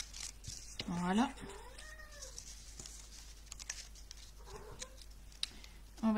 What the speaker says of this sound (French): j'ai mon chat là